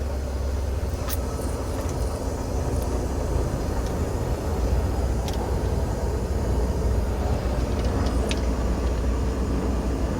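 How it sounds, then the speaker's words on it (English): A steady, loud roar of jet aircraft taking off or passing overhead fills the whole stretch with a constant low rumble and no talking. "Thunder of the jets."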